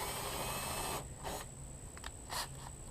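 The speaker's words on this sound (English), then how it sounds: "we're going to use a bunch of different drill bits here" A drill bit boring into resin during dirtbike and race boat work, starting with a steady high whine that cuts off after a second, followed by a few short bursts, faint and with no talk.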